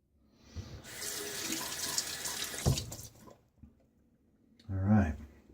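Kitchen-style tap running while fingers are rinsed under it, a close steady water rush lasting about two seconds, followed by a couple of splashes and a brief burst of sound after a pause.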